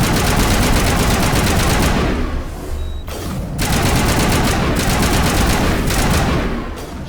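Loud rapid automatic gunfire in a ruins firefight in Mass Effect Legendary Edition, continuous bursts that briefly let up midway before resuming at full intensity.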